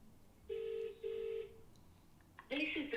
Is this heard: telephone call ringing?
yes